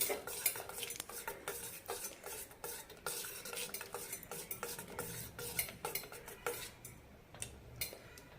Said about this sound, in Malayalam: ഇനി ഇതിലേക്ക് പഞ്ചസാര ഇടാം മൂന്ന് ടീസ്പൂൺ പഞ്ചസാരയാണ് എടുത്തിരിക്കുന്നത് നമ്മുടെ ഇഷ്ടത്തിനനുസരിച്ച് ഇടാം നന്നായി മിക്സ് ചെയ്യാം